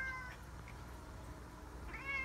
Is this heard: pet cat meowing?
yes